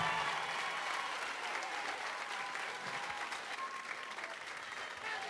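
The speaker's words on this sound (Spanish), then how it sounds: "Bien fuerte el aplauso, vamos" Theatre audience applauding a tropical music act in Ensenada, a steady dense wash of clapping sustained throughout with faint crowd noise underneath and no talking.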